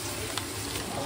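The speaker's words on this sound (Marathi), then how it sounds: "सुरुवातीची फोडणी रेडी होते" Onion tempering for pav bhaji sizzles in hot oil, a brief, steady crackle and hiss heard up close with no talking.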